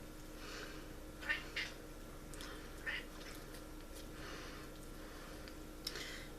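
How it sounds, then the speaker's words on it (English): A house cat begging near freshly cooked turkey gives several faint, short meows spaced a second or two apart over a quiet room hum. "My cat wants some."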